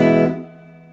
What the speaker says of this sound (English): hear all that space, all those reverberations, reverb